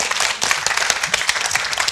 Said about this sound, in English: But first we need to give Sebastian a big round of applause